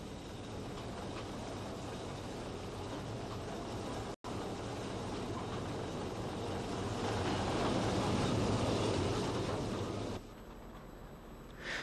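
Preserved peat railway rail car C47 at the Cavan and Leitrim Railway site at Drummond runs with a steady, loud engine drone and rumble that swells slightly, briefly cuts out once, then drops to a quieter idle near the end.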